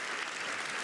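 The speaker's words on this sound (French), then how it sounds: "Les applaudissements du Parlement européen de Bruxelles" Steady, dense applause fills a large parliamentary chamber at the European Parliament in Brussels, continuous and even throughout with no pauses or voices standing out.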